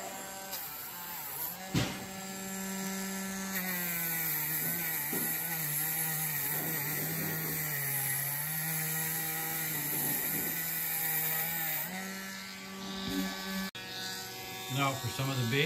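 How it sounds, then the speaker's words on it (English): A small power tool polishes back the metal body of a die-cast Matchbox 50a Commer Pick-Up MKVII toy truck, giving a steady, buzzing motor whine with slight pitch shifts as it presses on, and a voice talks over it. "time now to start polishing back that metal"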